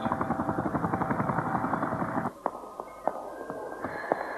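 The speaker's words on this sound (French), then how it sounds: "l'hélicoptère est sur le toit de la réserve fédérale et Jack n'est pas à bord" A helicopter's rotor thumps in a rapid, steady beat for about two seconds, then drops away, leaving quieter background noise with a few sharp knocks.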